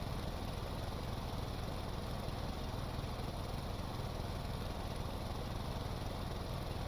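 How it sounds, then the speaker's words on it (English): A one-cylinder engine runs steadily at fairly high revs, a constant loud drone with no pauses and no voices. "this is a one-cylinder engine in it, so that's why it's this one revs a little higher"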